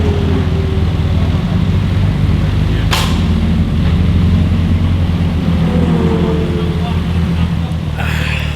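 A 2.5 litre BAC Mono drives back to the pits, its engine droning steadily and loudly with wind noise, while a voice talks over it; a short burst of hiss cuts in twice.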